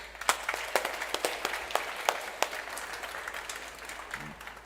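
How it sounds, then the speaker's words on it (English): An audience welcomes a company at a student aerospace project event with moderate applause. Individual claps stand out over a soft bed of clapping, and it fades toward the end. "I would like to also welcome them with a warm applause from everyone"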